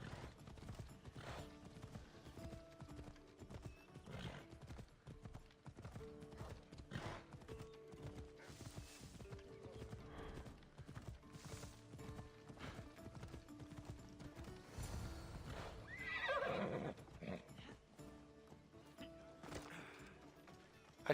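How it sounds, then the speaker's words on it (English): A horse in a video game gallops with a steady, rhythmic clip-clop of hooves across the whole stretch, and a sharp whinny breaks through around the middle of the run. "This horse is slow."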